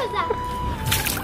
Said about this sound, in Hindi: उधर पानी में कहाँ डाल रही है